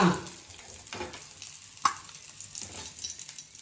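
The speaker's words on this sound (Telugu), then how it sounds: "పచ్చిమిర్చి మంచిగా ఫ్రై అయిపోయాయి." Green chilies fry in hot oil with a soft, steady sizzle. A few spatula strokes and one sharp clink come through, quiet and close, with no speech.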